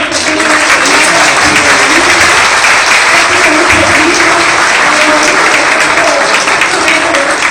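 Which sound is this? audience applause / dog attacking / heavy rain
audience applause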